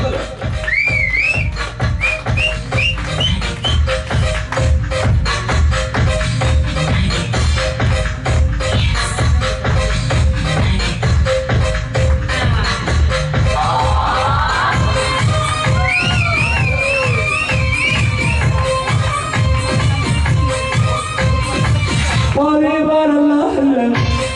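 Loud, dense crowd at a Kannada fan event for actor Puneeth Rajkumar, with continuous cheering, shrill whistles and shouting over a rhythmic pounding beat throughout, ending in a brief drop and burst of voices.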